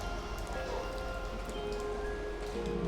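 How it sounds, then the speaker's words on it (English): Rain falls steadily at a lake view resort in Wayanad, a constant even hiss of drops on surfaces with no break, heard alone at moderate volume. "It's raining but looking very good."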